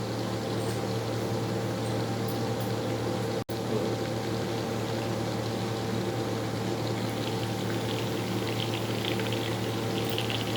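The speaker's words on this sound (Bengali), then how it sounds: "এটা ভাজা হতে থাক, আমি এই ঢাকনাটা দিয়ে ঢেকে দিই" Potatoes and pointed gourd frying in oil under a lid in a covered pan, a steady muffled sizzle and hiss with a constant low hum, broken by one brief dropout partway through.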